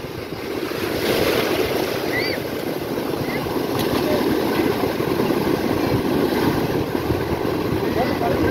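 Ocean waves at Laboni Beach in Cox's Bazar, a loud constant surf roar mixed with strong wind buffeting the microphone, with people talking faintly amid the breaking water.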